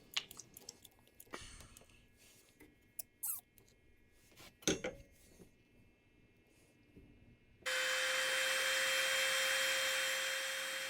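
A copper lug fitting crimped onto heavy wires with a 2/0 compression die during starter solenoid rewiring on a Honda Goldwing GL1200 motorcycle: scattered small clicks and creaks, then a loud, steady mechanical whirring drone that runs continuously to the end.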